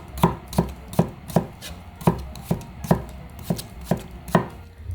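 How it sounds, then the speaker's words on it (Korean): A knife slices cucumber on a cutting board in steady, evenly spaced chops, about two or three per second, close and crisp with no talking. "오이는 뭐 동글동글 썰어도 되고 어슷어슷 썰어도 되고 다 상관없어요"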